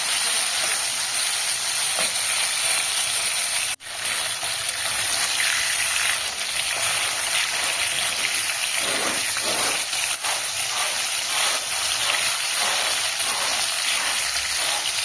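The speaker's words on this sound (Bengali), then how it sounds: "বেশ মাছগুলো বেশ কড়া করে আমি ভেজে নিয়েছি।" Fish deep-frying crisp in hot oil for a fish and drumstick curry, a steady loud broadband sizzle running throughout the stretch with one sharp click early on, no talking.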